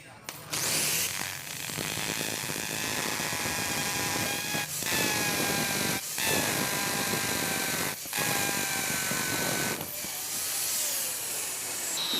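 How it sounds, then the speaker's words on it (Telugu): An electric drill with an 8 mm bit whirs steadily and loudly while boring holes, cutting out briefly a few times before starting up again. "ఈ డ్రిల్ మిషన్ మనకు 8 mm బిట్ తీసుకోండి"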